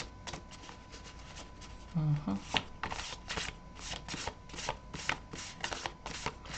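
Oversized affirmation cards being shuffled by hand, a steady run of crisp riffling flicks and slaps close up, with a brief low voice sound partway through.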